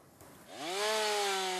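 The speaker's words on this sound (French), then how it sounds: "Pour ces jeunes érables, aucune autre issue que la tronçonneuse n'était possible." A chainsaw revs up while young maple trees infested with pests are cut down, starting from a low idle and climbing quickly into a loud, sustained high-pitched whine close by.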